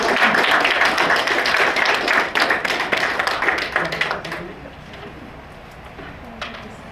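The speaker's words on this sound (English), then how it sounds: "just a big round of applause for the presenters" Audience applause for presenters at an Indonesian research day event in South Australia, steady clapping that thins into scattered claps and dies away after about four seconds.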